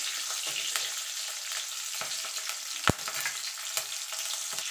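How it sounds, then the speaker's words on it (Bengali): Black cumin seeds and three green chillies fry in hot oil as a Bengali tempering, making a continuous close sizzle dotted with small pops and one sharp crack. "এবার ফোড়নটা একটুখানি ভাজা ভাজা করে নেব।"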